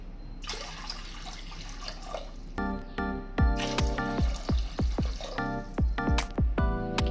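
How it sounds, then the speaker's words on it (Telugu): Water pours and splashes into a metal cooker pot, starting as a soft trickle and turning into repeated gulping, resonant splashes. "అదే గ్లాస్తో మూడు గ్లాసులు వాటర్ వేసుకోవాలి"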